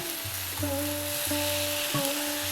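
Chopped tomato goes into onions cooking in a pan for Kerala egg roast, making a loud, continuous sizzle over a low steady hum.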